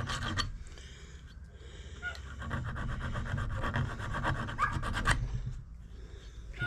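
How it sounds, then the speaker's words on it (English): Hand metal file rasping over a freshly drilled snare part to smooth the roughness, a steady back-and-forth scraping rhythm close up with no talking. "File that right there where it takes off the roughness where you just drilled it."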